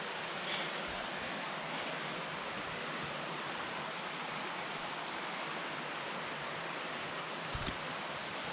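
A river flows through a valley at Tregargus in Cornwall, a steady loud rushing wash of water that holds unbroken throughout.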